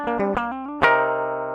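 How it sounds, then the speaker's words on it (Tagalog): Dry electric guitar recorded direct through a DI with no effects: a few plucked notes in quick succession, then a stronger strum that rings out clean and sustained, close and clear. "It's called the DI signal or direct injection signal."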